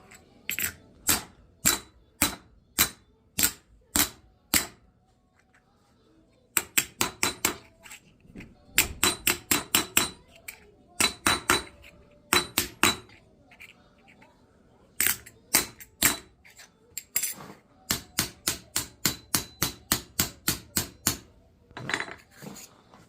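Hammer blows dishing a copper sheet into a shallow bowl for a copper and steel candle holder, ringing out in quick, even bursts of a dozen or so sharp metallic strikes, separated by short pauses.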